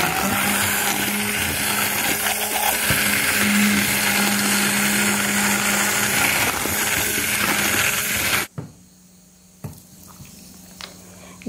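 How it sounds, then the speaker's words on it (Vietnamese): A blender grinds soaked red beans with water in a loud, steady whir for about eight seconds, then stops abruptly, leaving quiet kitchen sounds and light clinks. "Các bạn có thể sử dụng máy xay cầm tay hoặc là máy xay sinh tố đều được nhé."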